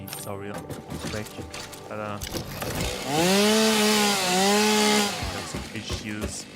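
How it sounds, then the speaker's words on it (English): A chainsaw in the video game Satisfactory revs up loudly for about two seconds with a rising and falling whine, set among other clunky mechanical game sounds. "Chainsaw real quick."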